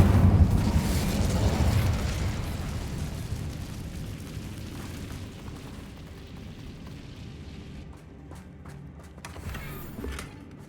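The Incendio fire spell is cast in Hogwarts Legacy, a loud whooshing burst of flame with a deep rumble that slowly fades and thins out into quieter crackling over several seconds.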